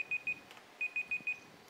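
An electronic alarm beeps in short, evenly spaced pairs of sharp tones, briefly pausing before repeating, indoors and moderately loud without voices.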